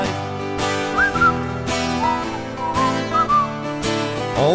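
A person whistles short melodic phrases during a live unplugged performance of a song, the whistled notes riding over steady acoustic music.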